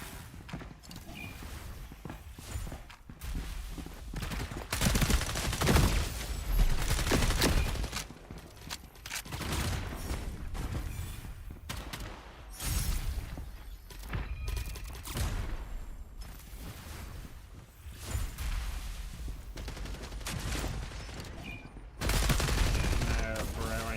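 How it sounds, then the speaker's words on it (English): Shotgun blasts and other gunfire in the shooter game FragPunk, loud bursts scattered through a busy, dense battle soundscape with intermittent voices in the background. "The shotgun."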